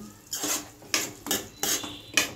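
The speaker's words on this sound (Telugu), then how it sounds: "తర్వాత నేను టమాటా వేసుకున్నాను తర్వాత సాల్ట్ వేసుకొని ఇటు కొంచెం వేగనియాలండి" A spoon scrapes and knocks around a pan of frying tomatoes and salt, giving five or six short, bright metallic strokes in an uneven rhythm, close by and with no one talking.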